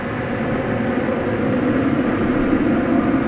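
A UPS Boeing 747 cargo jet taking off at DFW Airport at night, a loud, steady low jet roar that holds even and strong from start to finish.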